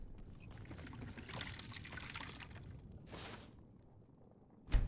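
Water poured to refill a container in the Skyrim video game, a steady, moderately faint splashing stream lasting a few seconds, easing off near the end, followed by a brief sharp knock.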